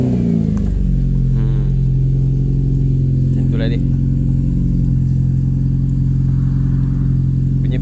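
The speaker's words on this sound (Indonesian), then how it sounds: "macam mana bunyi exhaust lepas tukar tabung kecil belakang dengan tabung tengah" Proton Satria Neo CPS with its middle muffler swapped in, the exhaust giving a deep bassy idle hum with a short rev near the start, close and steady, while someone speaks briefly over it.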